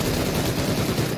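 Automatic gunfire in the video game PUBG: a dense, continuous, loud burst of rapid shots filling the whole moment with no pause and no talk over it.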